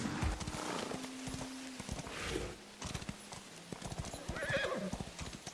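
Horse hooves galloping across terrain in the Where Winds Meet video game, a steady clip-clop rhythm close up with a horse neighing partway through.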